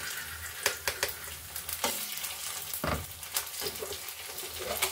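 Ginger-garlic paste frying in a pan, a steady close sizzle with bursts of spattering crackle and a few sharp stirring clicks, no voices.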